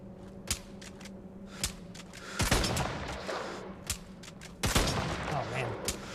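Loud gunfire in the video game Brigador Killers: sharp single shots ring out, then two heavier bursts of rapid fire with rumbling tails, close and dominant over steady background game noise.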